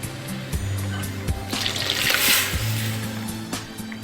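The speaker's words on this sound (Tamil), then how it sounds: "தேவையான அளவு சாம்பாருக்கு தண்ணி ஊற்றியாச்சு." Water splashes and trickles steadily into a cooking pot of lentil sambar, with a brief swell of louder pouring midway over a low rhythmic hum.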